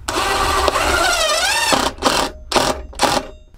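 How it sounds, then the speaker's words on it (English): Screws being driven with a powered driver into wooden kitchen drawers in a Citroen Relay camper van: a sustained whirring whine with rising pitch, followed by three short separate bursts of motor noise. "So I'm just gonna get the screws and screw them in this way."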